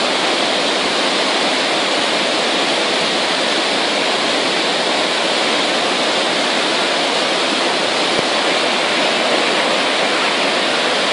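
Floodwater rushes in at Klein Kariba, a loud, dense, unbroken roar of churning water that holds steady throughout with no pauses.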